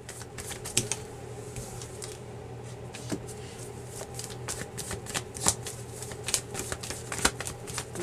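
Tarot cards shuffled and drawn by hand, a steady run of crisp, papery flicks and soft slaps at close range, with no talk over them.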